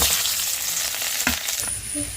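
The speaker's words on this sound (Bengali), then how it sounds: "পেঁয়াজ রসুন আর কাঁচা লঙ্কা দিয়ে দিলাম তার আগে দিয়ে দিয়েছি কালো জিরা ফোড়নে" Onion, garlic and green chilli fry in hot oil over nigella seeds, giving a steady, loud, close sizzle with one brief stirring knock partway through and no talking.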